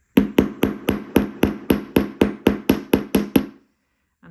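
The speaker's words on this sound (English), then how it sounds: "We're doing a bit of hammering today," A hammer flattens wire on a metal bench block, striking about thirteen quick, evenly spaced ringing blows close by before falling silent.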